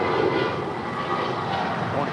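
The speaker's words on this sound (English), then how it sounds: "That is JetBlue 2532 off to Salt Lake City. It is an A320." A JetBlue Airbus A320 departs LAX for Salt Lake City, its engines a steady, broad roar filling the whole stretch at moderate loudness, with a voice talking over it.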